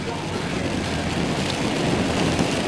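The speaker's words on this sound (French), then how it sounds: "Voilà, donc sous la grosse pluie." Heavy rain pours down during a motorcycle trip through the Vercors, France, a steady, dense hiss with a low rumble beneath, constant and loud throughout.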